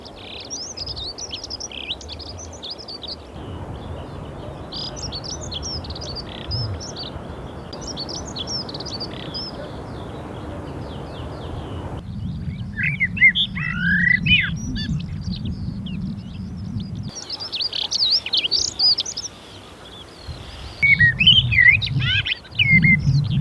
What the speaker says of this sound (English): the normally secretive dunnock pours his music into the air.